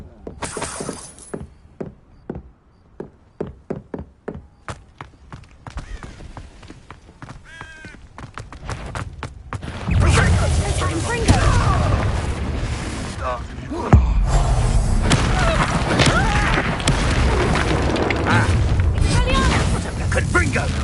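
Confringo blasting spells exploding in Hogwarts Legacy combat, heavy booming blasts with crackling debris erupting loudly after a sparse run of sharp clicks, sustained chaotic roar over the second half with a sudden burst near the middle.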